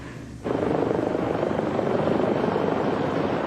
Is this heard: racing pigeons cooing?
no